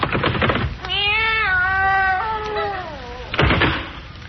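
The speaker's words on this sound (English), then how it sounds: "There's nothing in there but a cat." A cat meows as a sound effect in a 1949 radio comedy show. One long, drawn-out, wavering meow lasts over two seconds, close and clear, between muffled studio rustles.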